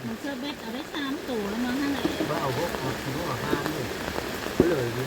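Steady rain patters on surfaces outdoors at a fish-catching spot, a constant hissing wash of drops, while someone talks over it.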